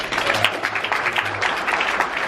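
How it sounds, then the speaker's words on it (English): Audience applause at a horror film panel during a fan convention, a dense, steady wash of clapping from a crowd filling the room at moderate loudness, with faint voices and cheers mixed in. "Big round of applause."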